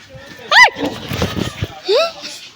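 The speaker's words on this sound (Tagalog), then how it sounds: "Yan, may aso." A dog yelps and whines twice near a burning resort amid heavy smoke, sharp high cries about a second apart, with muffled rustling and movement between them.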